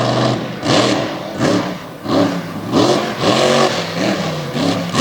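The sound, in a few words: race truck launching and revving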